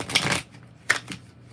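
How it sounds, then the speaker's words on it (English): Tarot cards shuffled by hand in two quick bursts, a longer riffle followed by a shorter one, close and crisp with no talking. "I feel like the cards are shuffled enough apparently."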